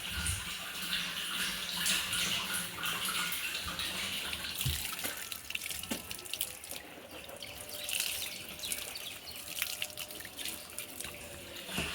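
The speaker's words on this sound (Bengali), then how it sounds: "স্টোরেজ ট্যাঙ্কিতে এই যে জল আসছে ওই ট্যাঙ্কি থেকে এটা ফিল্টার করা জল" Filtered water from an iron filter setup pours steadily into a storage tank, a continuous broadband rush with faint drips and splashes, moderately close and unbroken for the whole stretch.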